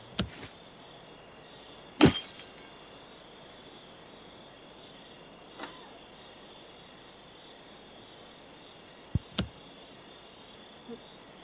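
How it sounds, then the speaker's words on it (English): Window glass smashed in Thief Simulator: a loud shattering crash near the start, then a few scattered clinks and smaller breaks with quiet gaps between, over a faint steady background hum. "Alright, it says break the glass."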